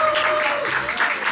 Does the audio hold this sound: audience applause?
yes